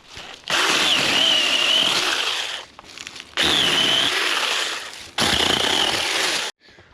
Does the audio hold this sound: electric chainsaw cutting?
yes